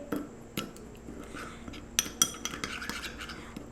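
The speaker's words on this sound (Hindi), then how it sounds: "इंग्रेडिएंट्स डालने के बाद अब हम इसको मिक्स कर लेंगे।" Spoon stirring chow mein sauce ingredients, cornflour, black pepper, salt and sugar, in a bowl, soft scraping with scattered light clinks against the dish, close and fairly quiet.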